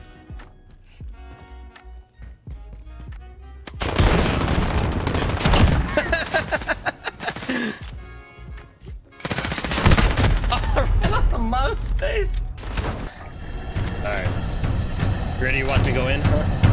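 Gunfire in Call of Duty: Modern Warfare, bursts of loud close shots and rapid volleys breaking out in two dense stretches between quieter gaps, with players talking over the action.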